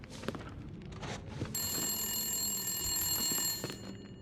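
An old telephone bell rings in The Long Dark: Wintermute, a continuous, loud, insistent ring that starts after a second of quieter footsteps and ambience and runs steadily for about two seconds before it stops.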